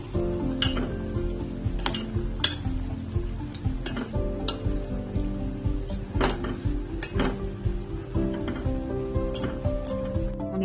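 Homemade hair oil with curry leaves bubbling in a pan, a busy close sizzle broken by repeated clinks and scrapes of a spoon against the metal, steady throughout with no talk.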